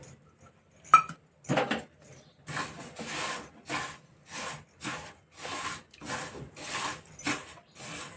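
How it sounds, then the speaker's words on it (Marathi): A bowl of sesame seeds is lightly dry-roasted in a home kitchen pan while being stirred. Soft, rhythmic rattling and scraping bursts come at a steady pace, close and quiet, with no talking. "एक वाटी तीळ घेतलेत मी ते आता थोडं भाजून घेणार आहे हलकं भाजून घ्यायचं"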